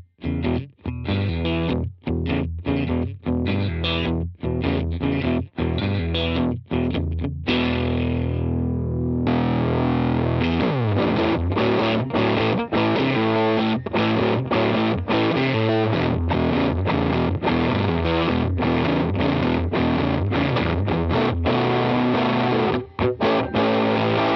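PRS Silver Sky guitar through a JHS Bender fuzz set as a bluesy boost into a Vox AC15, with crunchy, mildly overdriven bluesy licks, first choppy with short stabs and then continuous sustained playing, close and loud.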